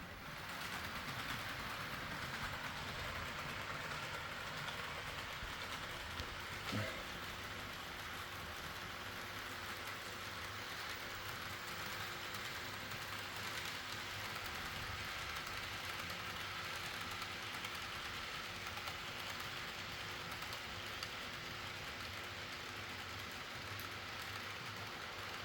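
A toy Star Wars train with a caboose runs steadily along its track, giving a continuous close mechanical whir and rumble with no talking over it.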